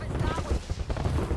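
Gunfire in Apex Legends during an ALGS scrim: rapid bursts of shots crackle throughout the short stretch, mixed with game sounds, while voices talk over the action.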